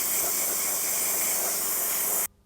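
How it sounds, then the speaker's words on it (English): Aluminium-coloured Vallejo paint hisses steadily from a spray onto a model sleigh, one continuous close airy burst that stops abruptly near the end. "I can just spray that onto the sleigh."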